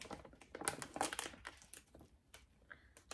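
A resealable Blissfuls snack bag crinkles and rustles up close, with a burst of sharp plastic crackles followed by quieter scattered crinkles and small clicks, soft overall.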